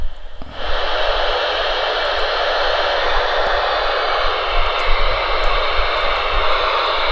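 A steady, loud broadband hiss of radio static from a Merodith MD-222 radio with its squelch opened switches on abruptly and continues unbroken, with faint clicks scattered through it.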